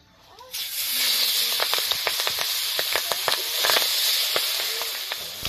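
Live freshwater fish from a canal drop into hot oil in a wok. A loud, steady sizzle roars up close after a brief quiet start, with sharp pops and spits crackling through it for several seconds.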